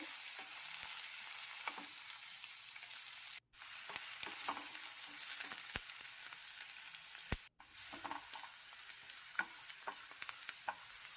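Onions sizzle in oil in a pan while being stirred for a bottle gourd stir-fry. Frequent spoon scrapes and taps sit over a continuous soft frying hiss, with two brief dropouts and no voices.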